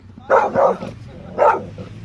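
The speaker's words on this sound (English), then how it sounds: "Is this some sort of service dog?" A service dog in training lets out three sharp, close barks, two in quick succession and a third a moment later, loud against a quiet background.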